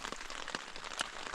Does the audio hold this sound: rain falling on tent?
yes